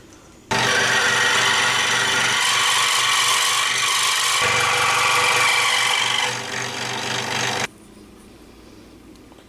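A thin slice of wood held in a clamp is sawn off to make a guitar pick, a steady, loud rasping stroke that runs about seven seconds before easing off and stopping.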